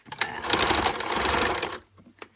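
A sewing machine hems quarter-inch fabric edges in a close, loud, continuous run of rapid stitching that stops abruptly, followed by quieter handling clicks.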